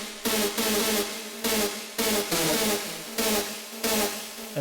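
A buzzy synth lead for a techno drop plays in short repeated bursts, switching between a thinner dry tone and a wider, shimmering unison-detuned version; loud, rhythmic stabs with brief gaps and no speech.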